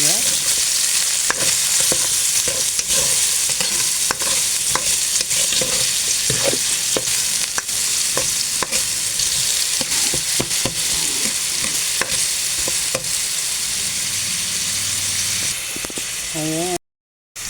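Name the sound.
onions frying in a pan for goto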